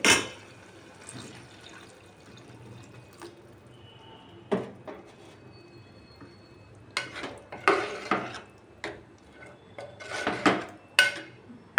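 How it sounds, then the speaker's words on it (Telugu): Half a glass of water is poured into a pot of mutton, tomato and drumstick curry, with splashy bursts and clinks of the pot coming near and loud in the second half after a quieter start. "ఇప్పుడు ఒక హాఫ్ గ్లాస్ వాటర్ పోసుకోవాలండి"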